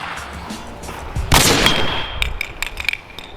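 An outdoor hockey slap shot: a loud sharp crack as the stick strikes the puck, followed by a ringing clang and scattered rattling knocks trailing off.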